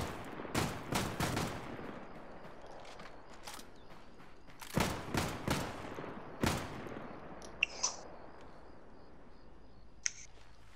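Gunfire from a shooter video game with a fast cyclic rate comes in rapid clusters of sharp shots, loud bursts separated by short gaps, followed by a few faint clicks.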